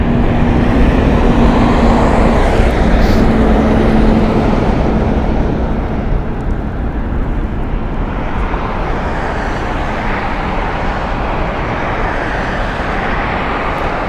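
An American Airlines Airbus A321 at Las Vegas Harry Reid International Airport fills the scene with a steady, loud broadband jet roar, holding constant throughout with a faint hum underneath, no voices present.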